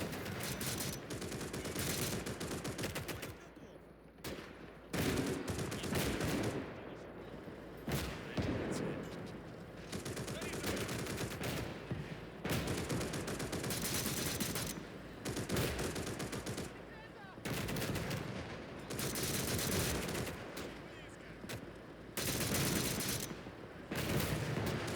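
Sustained machine gun fire and a broader fusillade rattle through a battle in Call to Arms: Gates of Hell, loud dense bursts with short gaps repeating across the whole stretch.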